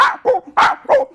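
A man imitates a pinscher's barking, giving four sharp, yappy bursts in quick succession, loud and close, with no other sound around them.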